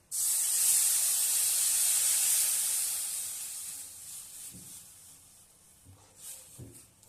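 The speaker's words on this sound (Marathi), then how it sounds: "ते दूध आता मी त्याच्यामध्ये ओतणार आहे" Hot milk poured into vermicelli fried in ghee sets off a loud, steady sizzling hiss that slowly fades over several seconds, followed by a few soft clinks and stirring sounds near the end.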